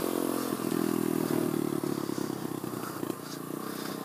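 A pit bike motorcycle rides on a sandy path through a Florida park, its small engine buzzing and revving close up, with rattling clatter over the steady drone.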